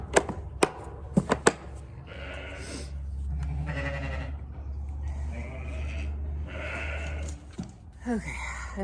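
Ewes bleating in a pen on a farm during lambing preparation, several calls rising and overlapping at moderate distance, with sharp knocks early on and a low steady hum underneath.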